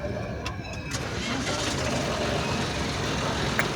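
A farm tractor engine runs with a steady, rough low rumble that holds evenly throughout, sounding close and fairly loud.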